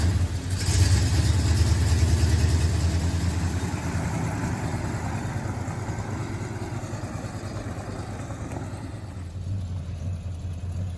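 A Dodge Dart's engine idles with a low, steady exhaust rumble, a bit louder at first and then settling into an even drone close by, with no talking.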